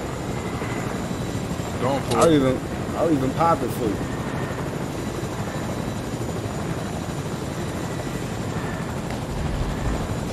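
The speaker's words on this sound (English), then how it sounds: "Helicopter right now." A helicopter's steady engine and rotor drone fills a video game scene, loud and continuous, while players talk over it.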